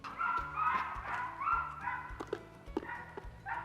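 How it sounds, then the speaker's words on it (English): Dogs bark in bursts from somewhere off in a backyard garden, the yaps coming in several loud, uneven clusters against steady low background noise, with no talking. "What is going on with the dogs over there?"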